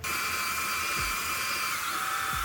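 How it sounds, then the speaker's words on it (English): A drill-driven hone runs continuously inside an engine cylinder bore, giving a loud, steady high-pitched whine with a grinding, scraping edge that hardly changes across a couple of seconds. "I'm gonna continue honing until that's all gone"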